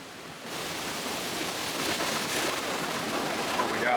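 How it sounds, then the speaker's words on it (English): Rushing water at SeaWorld San Antonio's Catapult Falls water ride, a steady broad hiss of flowing water that swells slightly louder over the few seconds, close by with no talking. "I love that sound of the water just like flowing."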